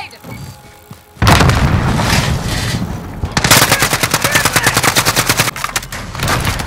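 In Call of Duty Modern Warfare, a grenade blast booms, followed by sustained rapid machine-gun fire in steady bursts, loud and close, with a voice briefly heard.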